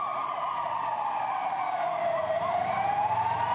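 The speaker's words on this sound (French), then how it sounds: "Au loin, on entend les sirènes des premières ambulances qui arrivent." Emergency siren wailing from a distance as the first ambulances arrive, a steady rising and falling tone carrying over faint traffic noise, with no one talking.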